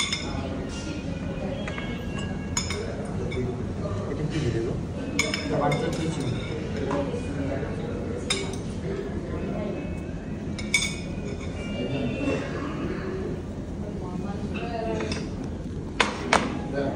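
Dishes and cutlery clink at intervals during a restaurant lunch, with sharp ringing taps set against steady background chatter and general room noise.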